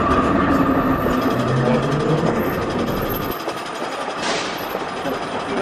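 A passing train rumbles loudly along the rails with a steady mechanical drone, the low roar easing partway through as the carriages move on, with some voice-like sound mixed in.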